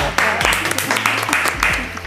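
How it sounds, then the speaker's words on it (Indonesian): A studio audience gives a short burst of clapping as a guest is introduced on a talk show. The crisp claps are heard close, mixed with people talking over them. "Tepuk tangan."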